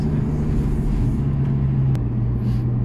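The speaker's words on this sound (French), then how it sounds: "il y a un petit downshift, petit coup de gaz en rétrogradage" Lamborghini Gallardo LP560-4 engine droning loudly from the cabin, with a low steady rumble that rises briefly as the throttle is blipped on a downshift near the end.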